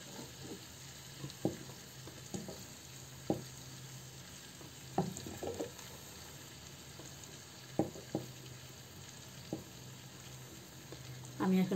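Chicken kabsa rice is gently stirred in a pot off the heat, a faint steady sizzle underneath with a handful of soft, scattered scrapes and taps of the spoon.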